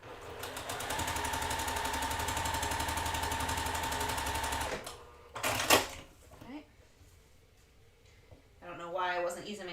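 A sewing machine stitches quilt pieces in a steady, close, rapid mechanical run for several seconds, then stops, followed by a few handling clunks and a voice talking at the end.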